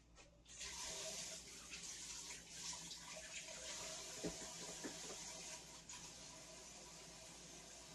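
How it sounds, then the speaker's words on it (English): A kitchen tap runs steadily while hands are washed under it, a continuous close splashing hiss with faint shifts as the hands move through the stream. "let me put this back and wash my hands"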